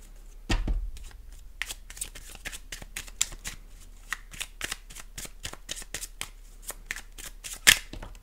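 Tarot cards being shuffled for a monthly Taurus horoscope reading, a quick close series of crisp riffling slaps and flicks in an even rhythm, a louder snap near the end, no speech.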